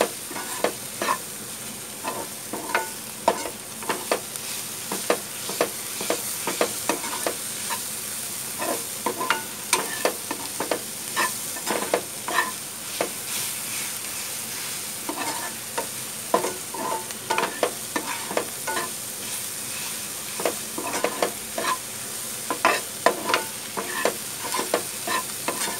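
Masala for chole gravy dry-roasting in a pan, with a utensil stirring and scraping through it in quick, irregular strokes over a steady low sizzle, close and moderately loud with no talking.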